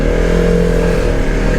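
A 2023 Arctic Cat Mudpro 600 engine drones at steady high revs, close and loud, with a continuous rough hum and no pauses.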